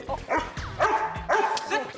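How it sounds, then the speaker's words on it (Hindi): Pet dog barking, a series of sharp, close barks and yips in quick succession, fairly loud, with no other sounds competing. "भाई जेठालाल, अभी तो घर जाकर कपड़े बदल लो, वरना शेरू तुम्हें देखकर भौंकता ही रहेगा"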